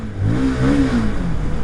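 CF Moto CLX 250 motorcycle exhaust after a repair with a welded part to cure a rattle, revving loudly up and down in a smooth, close engine rise and fall with no buzzing.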